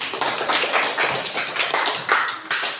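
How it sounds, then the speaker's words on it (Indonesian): Students clap together in a classroom: a dense, steady burst of close group applause runs for several seconds at an even, fairly loud level with no talk over it. "Tepuk tangan dulu."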